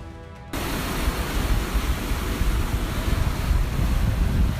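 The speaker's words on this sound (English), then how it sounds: "A strange wave suddenly crashed onto the New South Wales coast, sending locals and tourists running in all directions." Ocean waves crashing onto the New South Wales coast, a dense rushing wash of surf that starts abruptly after a brief quieter moment and churns on loudly, mixed with wind buffeting, no voices.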